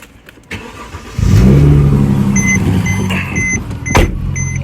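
A 2009 Mercedes-Benz C300 W204 sport with a six-speed manual gearbox and limited-slip differential: the engine note rises and holds a steady hum as the clutch engages, with a few faint clicks over it.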